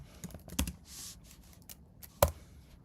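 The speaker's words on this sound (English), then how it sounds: "Maybe I will type thanks for applying for" Quiet typing on a computer keyboard, a handful of soft key clicks scattered irregularly over a few seconds, close and alone.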